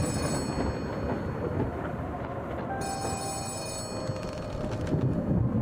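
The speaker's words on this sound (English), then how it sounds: "The phone is ringing again." A telephone ringing inside a haunted post office in the horror game Letter Lost: a rattling electric bell trilling continuously, with a short break partway through, over a dense rumbling background.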